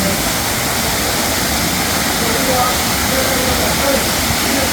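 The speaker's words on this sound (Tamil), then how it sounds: "அஞ்சு அருவி எல்லாத்துலேயும் ஓரளவு நல்லா தண்ணி விழுதுக்கா" Dense, continuous roar of the Five Falls cascade in Tenkasi, loud and steady throughout, with voices faintly mixed into the rushing water.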